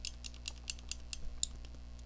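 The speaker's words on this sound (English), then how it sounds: "That is the sound of the crusty white resin." Dried, crusty white residue being scraped off a wireless PC/PS3 game controller's circuit board, heard as quiet, rapid, irregular scratchy clicks close up with a low hum underneath.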